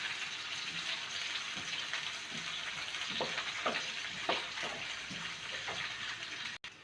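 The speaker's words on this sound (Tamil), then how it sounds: "வெங்காயம் நல்லா வதங்கணும்." Onions sauté in a pan for mint chicken, a steady close sizzle with a handful of soft stirring scrapes in the middle, ending with a brief cut, no voices.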